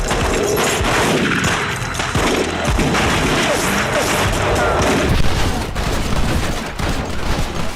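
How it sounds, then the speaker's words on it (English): A police shootout in a film scene plays as dense, loud gunfire bursts and crashing impacts layered with a busy soundtrack, continuous and chaotic throughout. "Michael, those cops have guns!"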